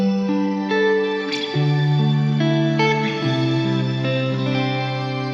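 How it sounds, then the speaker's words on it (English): Electric guitar notes through a bright shimmer reverb pedal with an octave-up layer, sustained chords swelling into a piercing, glassy wash with long ringing tails and no talking. "shimmer is a reverb where you add an octave up that follows your sound on top"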